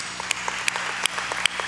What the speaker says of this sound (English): So how about a round of applause for our Mayor John Noak?